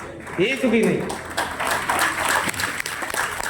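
An audience claps during a seminar talk: dense, steady clapping builds after a voice at the start and continues close and fairly loud, with speech mixed in.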